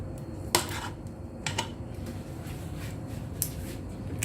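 Metal ice cream scooper scraping and scooping mung bean filling for hopia, a few sharp clinks and scrapes against a bowl spaced over a few seconds, close and fairly quiet with no talking.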